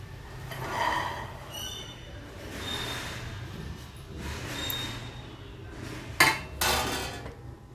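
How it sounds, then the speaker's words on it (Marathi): Corn kernels clatter into a hot pan on a gas stove while making masala corn, a few scattered metallic rattles and a sharper tumble of kernels near the end, close and fairly quiet. "ही मका मी टाकत आहे"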